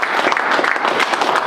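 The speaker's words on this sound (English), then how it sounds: "And that deserves a round of applause." Brief, dense applause from an audience at a wrestling event press conference, many hands clapping steadily and fairly loud.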